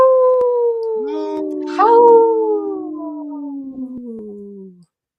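A long, wavering wolf howl glides slowly downward, joined briefly by a second higher howl, then fades out.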